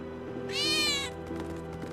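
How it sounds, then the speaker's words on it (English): A cat in Final Fantasy 7 Remake gives a single clear, rising-then-falling meow of about half a second, heard close over a steady low game ambience hum. "I think one of Betty's cats might be nearby."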